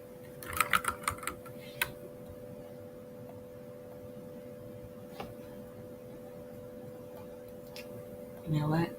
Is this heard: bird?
no